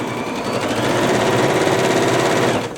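A Babylock Jazz sewing machine stitches fabric for a microwave potato bag, a loud, close, rapid mechanical whir that runs steadily for a few seconds before stopping, with no talking.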